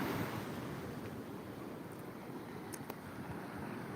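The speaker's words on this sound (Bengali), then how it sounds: "ও পুরো বীজ কাঁপানো ঢেউ মারাত্মক লেভেলের ঢেউ উঠছে বন্ধুরা" Strong sea waves surge at high tide on Shankarpur beach, a broad, continuous roar of surf with gusty wind buffeting the microphone, steady and close throughout with no talk.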